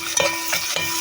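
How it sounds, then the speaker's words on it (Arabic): Onion and garlic frying in a pan while being stirred, a steady close sizzle with a few scraping strokes of the spoon across about a second. "ننزل بقى عليها ايه بالبصله والثوم اللي احنا ايه عملناه في الكبه"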